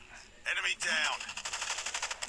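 Rapid automatic gunfire bursts in Call of Duty Mobile, a sharp machine-gun rattle of repeated shots starting after a brief lull, moderately loud with faint game sounds behind.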